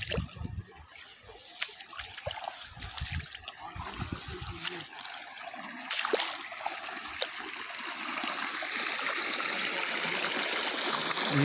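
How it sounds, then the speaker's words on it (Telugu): Irrigation water flows steadily down from higher ground across a farm field, a continuous hiss of running water that grows fuller and louder toward the end, with a few scattered knocks early on. "ఈ నీళ్ళు వస్తానే ఉన్నాయి పైనుంచి"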